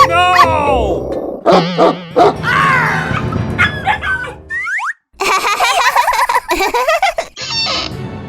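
A dog barks in short bursts amid busy, bouncy cartoon-like sound effects in a children's video, with voices and giggling mixed in.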